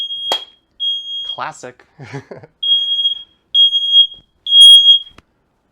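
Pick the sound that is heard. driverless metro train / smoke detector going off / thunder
smoke detector going off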